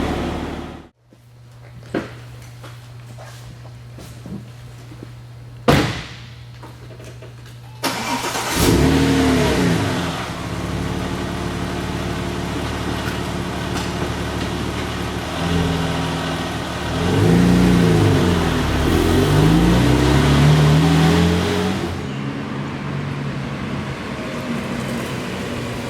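A Porsche 911 (996) Turbo Cabriolet engine cranks and catches after a quiet stretch, then revs and pulls hard through rising gears on the highway with the top down, loud and sustained with shifting engine tones.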